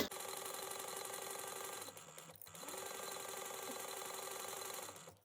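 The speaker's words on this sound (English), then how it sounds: "we're going to sew up at a 1/2 inch seam allowance until we get to that first mark we made." A sewing machine stitches a tote bag seam in a fast, even mechanical whir up close, pausing briefly midway before running on steadily and then stopping.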